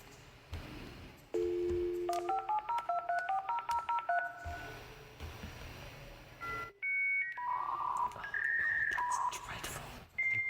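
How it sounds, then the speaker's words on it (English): A dial-up internet modem connecting: a rapid series of dial tones and steady beeps, then shifting screeches and warbling handshake tones, loud and continuous throughout. "So this is the sound of a dial-up internet."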